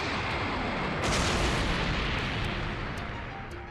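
Dense, continuous gunfire and blast noise from an animated fight, a loud unbroken wall of sound that swells slightly after the first second and holds steady throughout.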